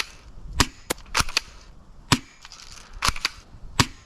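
Cheap airsoft sniper rifle fired repeatedly at a target, about eight sharp snapping shots at uneven intervals, close and crisp with no talking.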